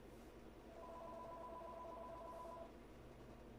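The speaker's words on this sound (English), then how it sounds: "Somebody's driving by my house while my phone's ringing." Phone ringing indoors with a steady electronic tone sustained for about two seconds over a low background hum, fairly faint and alone without talk.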